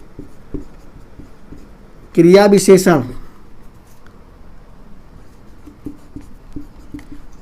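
Pen or chalk scratches out notes during a Hindi grammar lesson, as soft rhythmic strokes tap along throughout, with a short burst of a teacher's voice in the middle.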